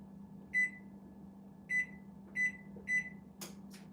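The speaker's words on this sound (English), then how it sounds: "I forgot to change the temperature on the oven." An oven control panel sounds four short, quiet electronic beeps at uneven intervals as its temperature is adjusted, followed by a couple of faint clicks against a low kitchen hum.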